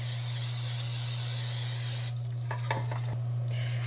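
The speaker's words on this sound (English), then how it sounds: "So I'm just taking some cooking spray and then I'm going to go ahead and spray this down." Cooking spray hisses steadily from an aerosol can onto a Pampered Chef brownie pan, a loud continuous spray for about two seconds, then stops, leaving light clatter and handling noises over a low steady hum.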